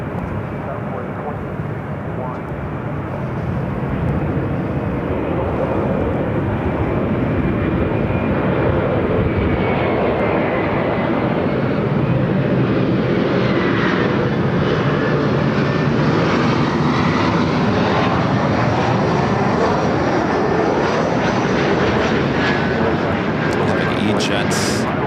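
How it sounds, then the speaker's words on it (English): A Southwest Airlines Boeing 737 MAX 8 jet takes off from Los Angeles airport with a loud, continuous engine roar that holds steady and swells slightly. Radio talk runs beneath the noise. "Southwest Airlines Flight 2061 heading to Sacramento, 737 at MAX 8"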